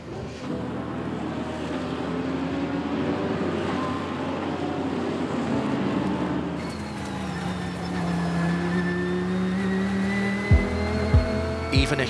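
Audi R8 race cars lapping a very wet circuit during a race, engines droning with spray and tyre hiss, a pass shifting pitch partway through and a few sharp knocks near the end.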